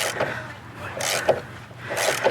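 A socket wrench on an extender loosens a 10 mm bolt on a 2012 Fiat 500C during a coolant reservoir replacement. It gives a few close, short rasping bursts of metal working against metal, with brief clicks in between.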